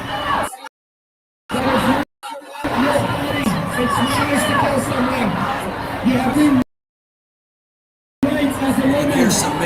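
Outdoor crowd noise at a Women's March street protest in Washington DC, men chanting among a dense, loud babble of voices and cheering, cut by a few abrupt silent gaps.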